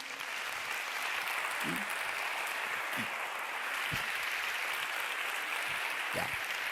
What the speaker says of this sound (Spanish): Un aplauso para los 6